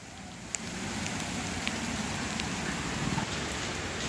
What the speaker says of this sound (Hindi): तेज हो गई बारिश